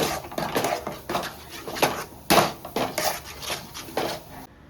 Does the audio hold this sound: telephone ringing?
no